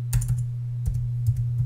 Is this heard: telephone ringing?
no